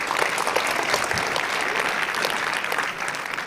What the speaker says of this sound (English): So please give a round of applause for Oliver.